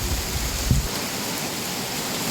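Steady rain falls outdoors at midday, a constant hiss of drops on leaves and surfaces with a brief low thump near the start.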